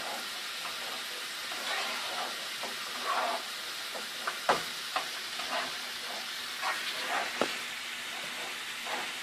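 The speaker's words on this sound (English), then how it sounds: "When we got that stirred up, we got to stir the beans a little bit." Beans cooking in a pan are stirred with steady, repeated scraping strokes over a continuous close sizzle and hiss, with a few sharper clinks along the way.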